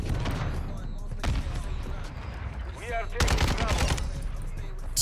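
Rapid automatic gunfire from a weapon in Modern Warfare 2, loud bursts with a brief pause between them, fired over continuous game background sound.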